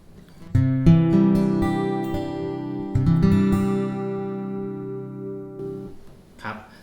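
Electric guitar chords through a TC-Helicon Harmony G XT pedal's chorus detune effect, ringing with a shimmering, doubled quality, two phrases sustained and fading, followed by a short scrape at the end.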